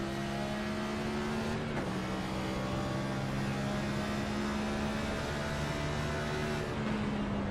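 A Cup Series race car circles Gateway with its engine held in fourth gear. The steady, sustained engine whine is continuous, with two brief dips in pitch along the way.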